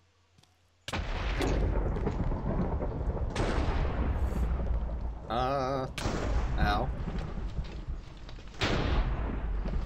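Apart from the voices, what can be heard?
lightning strikes from elementals in modded Minecraft video game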